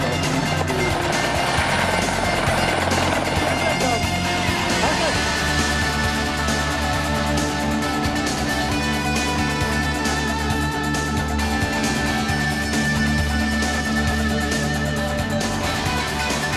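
Helicopter rotors and turbines drone loudly and continuously at the HeliDays Gmunden 2013 helicopter show in Austria, with over 50 helicopters present, the steady roar filling the whole stretch close by.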